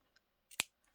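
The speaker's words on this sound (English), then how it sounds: "let's cut this ribbon" Scissors snip through craft ribbon at a planner desk, one sharp close cut with a faint click just before and a softer tick after, no voices.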